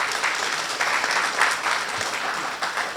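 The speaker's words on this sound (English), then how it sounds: "Give yourselves a warm round of applause for being here." Audience applause fills a university event center at a ribbon-cutting ceremony, a steady dense wash of clapping from a large crowd that stays loud and even for the full few seconds, with no voices over it.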